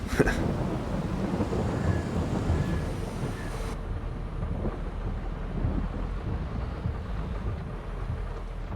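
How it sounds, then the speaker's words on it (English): Heavy rain in Farming Simulator 22 hisses steadily throughout, with a low rumble of thunder rolling underneath and a brighter spray of sound in the first few seconds. "Raining pretty hard."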